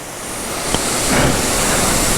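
Steady broadband rush of the Odugathur waterfall, a continuous even wash of falling water close by with no voices and a slight swell partway through.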